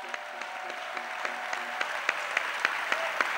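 A church congregation claps in a steady, even rhythm for Jesus, the beats sharp and close over a warm wash of crowd noise, with no voice on top.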